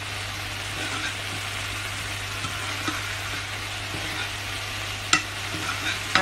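Barberries sautéing in a pan for Persian rice, a soft steady sizzle under gentle stirring, with a couple of sharp utensil clicks near the end.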